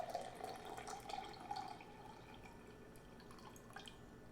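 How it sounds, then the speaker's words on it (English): Water poured from a plastic bottle into a cup in a home kitchen, a soft trickling stream fading to quieter drips, faint and close, with no talking. "I'll go ahead and get started with pouring the actual water here."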